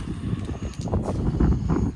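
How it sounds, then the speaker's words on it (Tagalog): Strong gusting wind buffets the microphone with a constant low rumble and roar, close and steady throughout. "lakas hangin"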